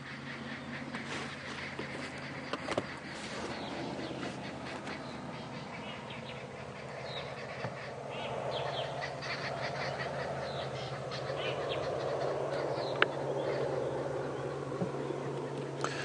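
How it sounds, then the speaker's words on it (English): Babblers chatter and call continuously at a distance, layered over a steady low hum and faint insect buzz outdoors on a safari drive. "if you listen carefully, you can hear those babblers"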